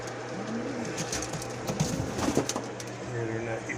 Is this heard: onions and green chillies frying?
no